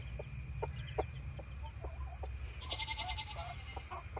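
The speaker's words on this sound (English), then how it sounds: "You're in the way, rooster" Barnyard chickens, a mother hen with her chicks and a rooster, cluck and peep in short scattered bursts over a steady low hum, with higher chirping clustering toward the end; no one speaks.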